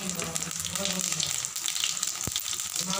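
Cumin seeds crackle and sizzle in hot oil in a pan while bottle gourd curry is cooked, a bright, continuous hiss with a brief voice near the start and a short pop late on.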